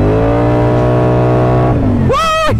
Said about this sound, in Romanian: Se aude ca și cum ar avea un motor foarte mare.